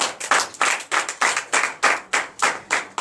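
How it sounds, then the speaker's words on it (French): Church congregation at a Sunday worship service in Benin clapping in acclamation, about a dozen strong, sharp, unison claps in an even rhythm, each with a short decay, close and clear with no talk. "Donnez l'acclamation à notre Seigneur."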